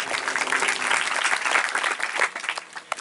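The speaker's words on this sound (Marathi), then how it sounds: "एकदा त्यांच्यासाठी सुद्धा टाळ्या वाजवा" An audience at a devotional kirtan gathering bursts into dense, continuous applause. Many hands clap together for about three seconds before thinning out slightly near the end.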